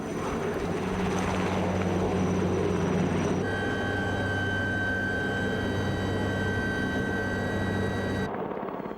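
A rescue helicopter operates in the mountains, its loud, steady rotor thrum and turbine whine continuing unbroken before cutting off abruptly near the end.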